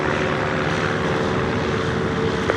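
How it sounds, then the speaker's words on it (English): A propeller light aircraft taxis at Little Gransden airshow, its engine a steady, loud droning hum with a faint tonal whine, continuous and unbroken. "Charlie Delta Alpha is taxiing out of the aircraft park behind the shipping."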